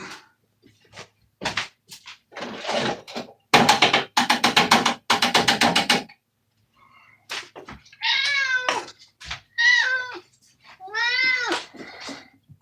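A pet cat at feeding time, with clattering and rustling of food preparation first, then several loud, drawn-out meows up close in short bursts, and a person speaking faintly now and then.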